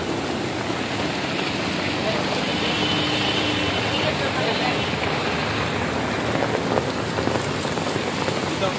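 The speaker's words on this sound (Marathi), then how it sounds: "काय दिवसभर पाऊस आहे," Heavy rain pours steadily on surfaces during an all-day downpour with water rising, a dense, close hiss that stays even throughout with faint traffic noise beneath.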